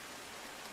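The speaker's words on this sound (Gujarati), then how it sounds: "ખાસ પૂર્વ વિસ્તારમાં ધોધમાર વરસાદ સમગ્ર અમદાવાદમાં વરસી રહ્યો છે" Heavy rain pours onto a flooded road in Madhupura, Ahmedabad, giving a dense, even hiss that holds steady for a brief moment with no voices.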